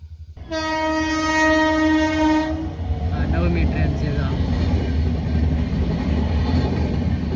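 A train passes a closed level crossing: a loud, sustained horn blast with stacked harmonics sounds for about two seconds, then the rumble and rattle of passing rail cars continues steadily to the end.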